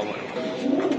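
High-flying Giribaz pigeons cooing close by, a soft continuous low warble that swells louder toward the end, with faint background noise.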